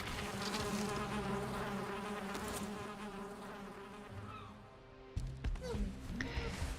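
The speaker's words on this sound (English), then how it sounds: "There's bees here. I can hear bees." Bees buzz in the Valheim game world, a steady insect drone under a continuous background bed, with a sharper sound breaking in near the end and a voice speaking faintly.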